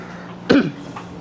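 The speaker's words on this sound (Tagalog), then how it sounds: "Pasensya na po, medyo inuubo-ubo pa." A single sharp cough from a church speaker cuts through a quiet room, a short burst followed by a fainter catch of breath.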